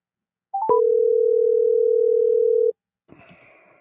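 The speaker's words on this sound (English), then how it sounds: "Let's go get Chris Story on the phone." A telephone dial tone sounds while calling a radio show guest: a brief chirp, then one steady tone held about two seconds before cutting off, followed by a faint click and rustle.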